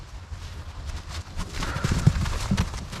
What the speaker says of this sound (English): there's a lot of horses here in Maple Ridge